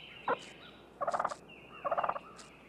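Wild turkey feeding call in an acorn-feeding flock: a single short cluck followed by two rapid bursts of repeated yelping notes, each series of about six quick calls, moderately near over quiet outdoor background.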